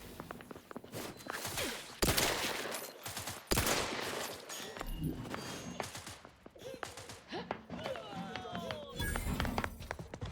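The Doom gun fires in The Outer Worlds 2 with loud heavy blasts and bursts amid combat, mixed with footsteps and movement, and a voice talks over parts of the fight.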